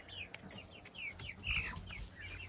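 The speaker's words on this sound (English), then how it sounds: "this is where all the chickens are" Chickens clucking in a backyard coop, a quiet string of short, repeated clucks and chirps that come close together, with faint low thumps underneath.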